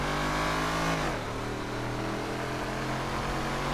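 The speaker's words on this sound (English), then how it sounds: "And this engine loud as hell, too." A loud car engine in the GTA video game revs hard and close, its pitch dropping sharply about a second in, then settling into a steady, throaty drone with no talk over it.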